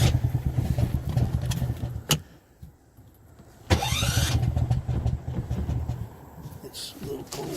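A cold car engine with its choke pulled cranks and catches in a couple of rough starting attempts, the starter whine and sputtering engine loud and close, with people talking nearby between tries.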